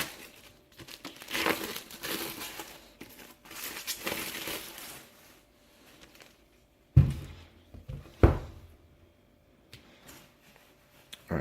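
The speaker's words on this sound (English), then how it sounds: "Let's get the plastic off, and then we can have a look inside." Plastic shrink wrap crinkles and tears off a comic omnibus, with bursts of rustling crinkle followed by two sharp, louder rips near the end, close and alone.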